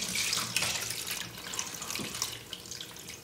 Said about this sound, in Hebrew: ואני ממלא מים עד הצלחת.